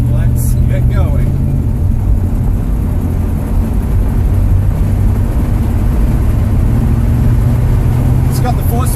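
A 1973 Ford Maverick restomod with a fuel-injected 302 V8 and four-speed overdrive transmission drives steadily, its low engine drone and road rumble continuous and loud from inside the car.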